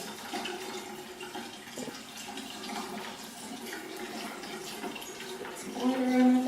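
Water running from a tap while someone washes their face, a soft steady splashing stream up close with a faint voice near the end.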